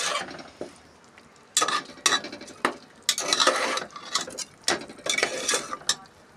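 Spice paste sautéed in oil for chana dal, irregular bursts of scraping and clattering from a spoon against the pan with a crackling fry between strokes, close and without speech.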